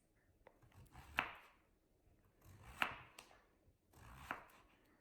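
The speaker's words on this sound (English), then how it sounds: "To julienne this zucchini, we take off the end, get a nice small chunk, and we're just going to go through with even slices." A knife slices zucchini into julienne strips on a cutting board, making three distinct, crisp chopping strokes spaced about 1.5 seconds apart, each with a soft scrape before it, close and quiet.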